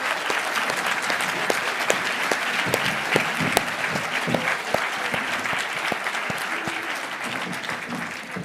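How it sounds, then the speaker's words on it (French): A seated audience at a final session in Brussels applauds to welcome the jury. It is a dense, continuous wash of many hands clapping at steady volume for the whole stretch, with no speech over it. "Et vous pouvez applaudir pour accueillir le jury,"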